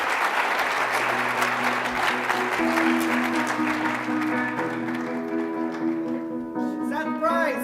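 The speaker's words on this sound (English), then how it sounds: "Seth Price, give him another round of applause." A conference audience in Palm Springs applauds after Seth Price's talk, loud sustained clapping that continues while music starts underneath and fades toward the end.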